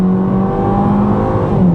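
A 2013 Ford Fiesta with a regular engine and 6-speed automatic, revving loudly and steadily under acceleration, a continuous close engine drone that rises slightly in pitch near the end.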